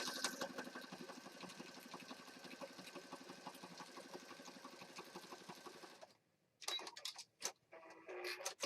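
A sewing machine stitches a junk journal card with a steady, close mechanical whir for about six seconds, then stops and gives way to a few brief clatters and handling sounds.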